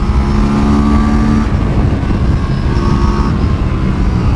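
A 2025 Aprilia RS457 sport motorcycle engine pulls hard in 4th gear, a loud, steady close-up roar with a buzzing tone that rises in pitch, then eases slightly as the ride goes on.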